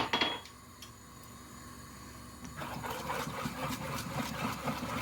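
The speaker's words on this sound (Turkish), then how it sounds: "sürekli karıştıralım arkadaşlar topak olması" Cake batter with milk pudding, carrot and cinnamon being stirred in a pot, a steady scraping and clinking of a utensil against metal that grows busier midway, close and without talk.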